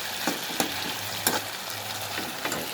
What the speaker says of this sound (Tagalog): Halo-halo ulit.